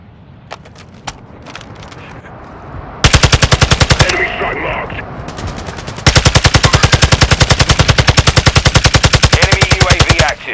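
Automatic gunfire in the video game Call of Duty: Modern Warfare II, a few scattered single shots followed by long loud sustained bursts of rapid machine-gun fire, close and dominant.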